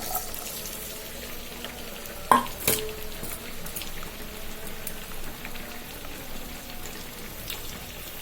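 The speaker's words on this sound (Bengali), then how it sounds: "এবার কেটে রাখা কাঁচা আম, পেঁয়াজ রসুন কাঁচামরিচ দিয়ে দিচ্ছি।" Raw mango, onion, garlic and green chili drop into hot oil in a kadai. A sharp crackling burst comes about two seconds in, then a softer steady sizzle continues, close and moderately loud, with no voices.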